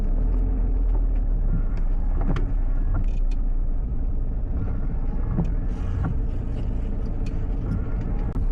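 A car drives through rush-hour city traffic in Vancouver. A steady, loud low rumble of engine and road noise carries on without a break, with faint passing vehicle sounds and no talk.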